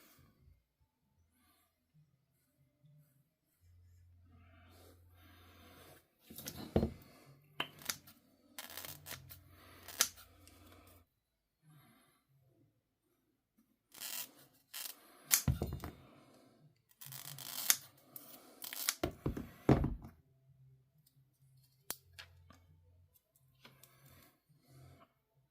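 Thermal pads for electronics being cut to size, quiet workshop with intermittent clusters of crisp snipping and crinkling, loudest in bursts midway and near the end, separated by near-silence and a low motor hum.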